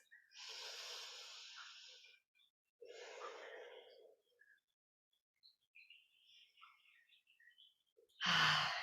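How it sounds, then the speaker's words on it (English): Slow breaths during a yoga practice, with two long exhales close by and a pause between them, followed by faint scattered sounds and a sudden loud burst at the end. "Two more breaths."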